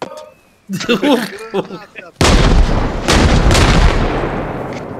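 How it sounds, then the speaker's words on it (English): Grenade blast in the video game Arma Reforger, one loud close boom with a long rumbling decay, following a few seconds of talk. "Grenade out!"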